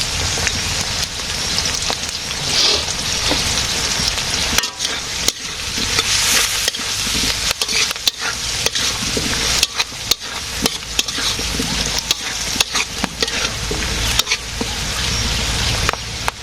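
Potatoes fry in a pan in a village kitchen, a steady dense sizzle with occasional stirring scrapes and clicks running throughout, close and fairly loud with no voices.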